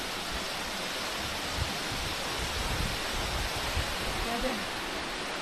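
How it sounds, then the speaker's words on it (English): Steady broadband rush of a waterfall beneath a sketchy footbridge at Tiger Leaping Gorge in Yunnan, a continuous close roar filling the whole clip with slight surges and no break. "You're basically crossing a bridge over this waterfall."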